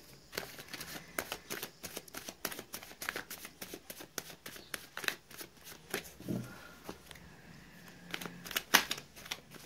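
Tarot cards being shuffled by hand: a quiet, continuous run of soft riffling flicks and slaps, close up, with no talk over them.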